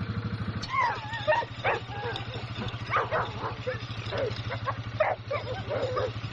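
Several American pit bull terriers in a kennel yard bark, yip and whimper in overlapping bursts, fairly close, under someone talking and a steady low engine-like hum.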